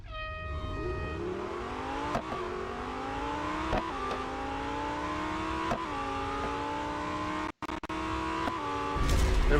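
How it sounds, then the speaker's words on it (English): A Lamborghini in a Real Racing 3 drag race, engine whine climbing steadily through several gear changes with brief dips at each shift, a short dropout near the end, then a final burst, loud and continuous. "back into the Lamborghini. Tier 9, we've got drag race"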